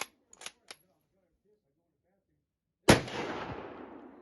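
A Kar98k rifle fires a single sharp, loud shot at a steel target, its report ringing out and decaying over about a second, preceded by a few faint clicks and handling noises.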